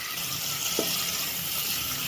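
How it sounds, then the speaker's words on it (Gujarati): Khaman tempering liquid of water, salt and sugar heating in a pan toward a boil, a steady hiss of bubbling throughout with one brief soft clink partway, no voices. "હવે આને આપણે એકવાર ઉકળવા દેવું."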